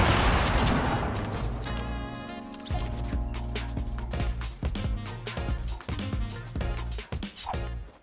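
Rapid bursts of automatic gunfire and booming shots in a Fortnite battle, dense and loud, stacking into near-continuous volleys with brief gaps, game music or effects layered underneath.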